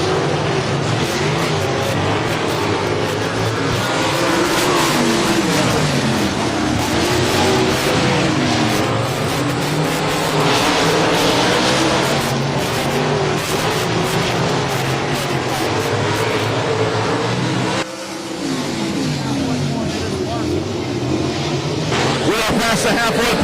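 Non-wing sprint cars roar around the Heart O' Texas Speedway track, their engines a continuous loud drone rising and falling in pitch as they race, while an announcer talks throughout.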